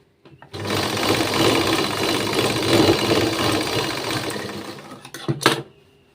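A sewing machine stitches a lined blouse in a tailoring session, running steadily and close for about five seconds with a whirring, slightly knocking motor, then stopping after a brief louder burst near the end.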